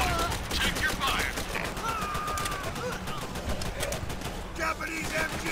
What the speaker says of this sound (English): Japanese MG!